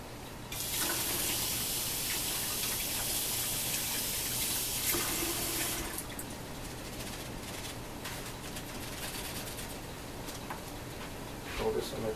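Water runs steadily from a tap while romaine hearts are rinsed, a constant hissing rush that softens midway and then continues more faintly, with a brief clatter near the end.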